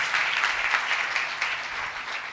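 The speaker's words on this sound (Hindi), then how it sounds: "और जोरदार तालियां बजाएं पाक कलाम के लिए।" A church congregation claps loudly and steadily, a dense, sustained round of applause that fills the room without pause and stays level from start to finish.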